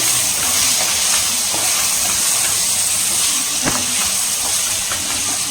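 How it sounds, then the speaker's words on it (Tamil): Green peas sauté in a pan with a steady, close hissing sizzle that runs unbroken throughout, broken by a few faint clicks and taps, with no one speaking. "பட்டாணி போட்டாச்சு. நல்லா இது மாதிரி வதக்கி எடுத்துட்டு"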